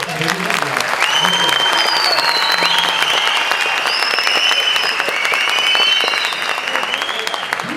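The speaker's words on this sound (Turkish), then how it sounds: "E o zaman Ahmet'i bir alkış" An audience at a youth gathering in Ataşehir claps steadily, a dense sustained round of applause with whoops and shouts above it and a few voices speaking underneath.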